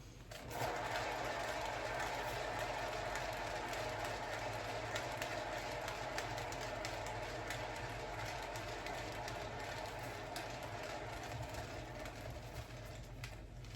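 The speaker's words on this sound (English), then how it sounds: "So let's spin again and see what happens." A motorized paint spinner whirs steadily as it spins a fluid-art pour of mini blooms, a loud continuous mechanical drone running without a break for about fourteen seconds.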